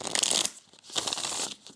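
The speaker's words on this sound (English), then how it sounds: "I'm able to riffle shuffle it" Two quick riffle shuffles of a stiff tarot deck, each a crisp, fluttering burst of snapping card edges, close up.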